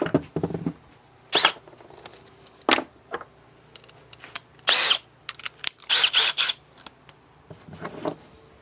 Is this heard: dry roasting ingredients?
no